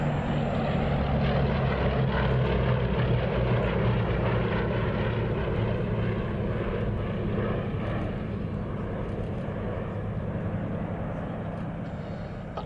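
Propeller aircraft flying at the RAF Duxford Battle of Britain airshow, a loud droning engine note with pulsing harmonics that passes close and then slowly fades as it moves away.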